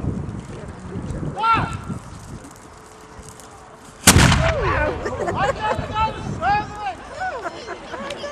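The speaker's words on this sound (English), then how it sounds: "we've got a musket ready to fire. Hands over your ears." A single historic musket fires at Shoreham Fort with one loud, sharp outdoor blast that echoes away, as a crowd talks and exclaims before and after the shot.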